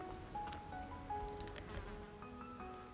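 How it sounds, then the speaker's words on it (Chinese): Honeybees buzzing while foraging on freshly opened black locust blossoms in the hills, a steady, fairly faint hum of many wings with a few nearer passes over the outdoor background. "勤劳的小蜜蜂已经开始采蜜了。"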